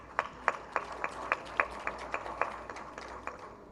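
Audience at the Pearl of Africa Tourism Expo clapping, a sparse run of distinct hand claps at a steady, fairly quick pace, moderately loud and close in a hall, with no talk over them.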